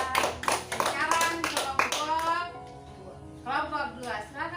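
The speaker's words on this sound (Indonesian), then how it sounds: "tepuk tangan untuk kelompok 3" A classroom of students claps for a student group after their presentation, a short burst of uneven clapping with children's voices talking over and after it.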